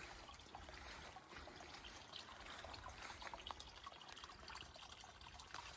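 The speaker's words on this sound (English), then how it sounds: "if you hear any water trickling, it's because that's where that natural spring streams down to" Natural spring stream trickling outdoors, a soft continuous babble of running water with small splashes and drips, faint and alone.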